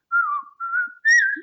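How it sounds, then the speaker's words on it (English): Three short whistled phrases from a person follow one another quickly, the last slightly higher and brighter, clear and close against a quiet background. "She heard you whistle."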